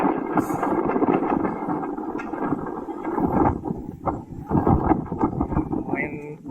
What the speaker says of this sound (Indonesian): Angin yang kencang di atas.